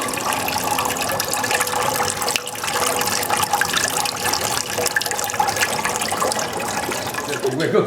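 Apple cider press squeezing apples with juice pouring out in a steady, loud liquid rush and splash, with voices talking over it.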